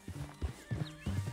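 A horse in Red Dead Redemption 2 moves at a walk in a steady clip-clop rhythm, with several close hoof falls and soft snorting breaths between them.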